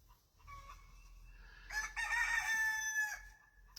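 A hen cackles loudly after laying an egg, a rising run of harsh squawks in the middle of the clip with a fainter call just before, set in a farmyard with low background noise and no speech.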